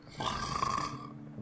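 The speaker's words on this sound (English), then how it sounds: "snoring away" A sleeping character in the Evil Genius video game snoring once, a short rasping inhale-like rumble, close and fairly quiet with no talk.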